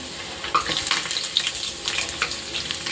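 Luchi, puffed Bengali flatbread, frying in hot oil at home, giving a steady close sizzle with crackling bursts and a few brief clinks throughout, no one talking.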